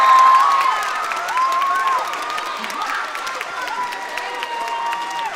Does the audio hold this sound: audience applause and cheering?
yes